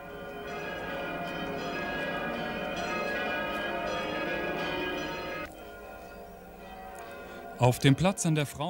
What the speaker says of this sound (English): the score displayed the starting points and ending points of the bells ringing.